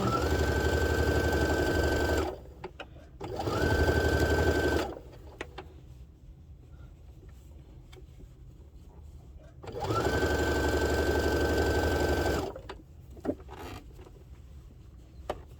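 A sewing machine stitches a spa headband seam in three close bursts, each a steady motor whine with rapid needle ticking, separated by quiet pauses with faint handling clicks.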